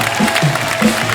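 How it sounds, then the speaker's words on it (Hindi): A studio audience at a television comedy show claps in a steady, continuous wash of applause with a few cheers mixed in. "NRI वाइफ्स के लिए एक बार जोरदार ताली।"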